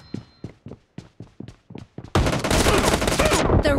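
Gunfire in an online gun game: a string of sharp single shots in a steady rhythm, then a sudden dense burst of rapid fire that stays loud to the end.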